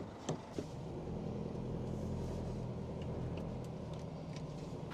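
A 2025 Isuzu D-MAX facelift pickup with a 1.9 turbo diesel cruising on a paved road in two-wheel drive, giving a steady low engine drone and road rumble heard from inside, with a couple of faint thumps at the start.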